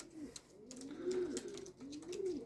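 Soft, throaty homing pigeon cooing in a few rolling phrases, close by, with faint background rustle.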